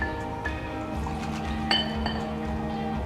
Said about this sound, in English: Then you take your mug and you pour it in.